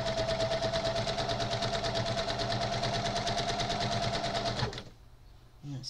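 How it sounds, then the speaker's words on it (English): A sewing machine stitches around quilt fabric with a fast, even mechanical chatter and a steady whine, running close and loud for several seconds before stopping abruptly, leaving a quiet pause. "And then I'm going to stitch around."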